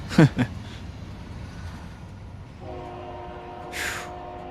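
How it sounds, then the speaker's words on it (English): In American Truck Simulator, a train sounds its horn in a sustained chord over a low rail rumble, after an earlier sharp thump or two, with a brief bright burst near the end. "I hear a train."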